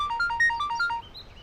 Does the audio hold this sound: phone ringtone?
yes